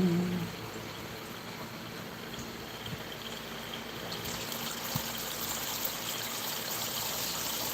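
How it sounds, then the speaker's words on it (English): Pumped water pouring off a log into a creek, a steady close splashing and trickling rush that holds evenly throughout, with a few soft knocks underneath. "We can reduce the splash simply by taking the log out."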